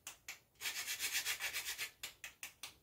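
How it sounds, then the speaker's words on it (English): Nutmeg scraped over a grater into Jamaican cornmeal porridge: a few single strokes, a quick run of about ten rhythmic rasping passes, then more spaced strokes, close and quiet with no talking. "I like a lot of nutmeg in my porridge, so I'm going to just go ahead and grate some more in my porridge."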